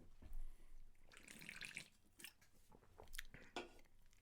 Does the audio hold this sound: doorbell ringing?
no